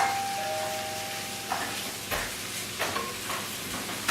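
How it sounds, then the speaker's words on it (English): Tomatoes sizzling as they heat in a frying pan, a steady close crackle with a few stirring scrapes and clinks, no talking. "now we're heating our tomatoes in"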